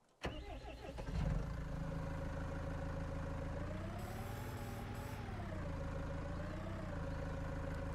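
A low-slung tractor in Farming Simulator 19 starts up with a quick burst and then settles into a steady droning idle, the engine pitch rising and dipping slightly, with no talk over it.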